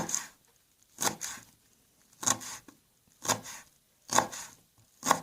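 A sharp knife chopping dandelion leaves into small pieces on a wooden cutting board, six crisp, evenly spaced knocks about a second apart, close and clear with quiet gaps between.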